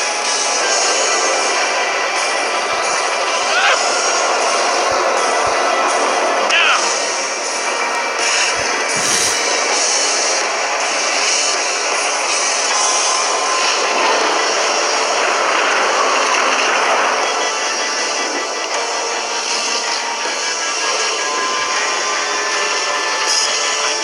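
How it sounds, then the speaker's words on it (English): A tractor beam in the Minecraft Story Mode video game gives a loud, steady, roaring hum that fills the whole clip, like a jet engine, with a few faint thumps and no speech. "Tractor beam!"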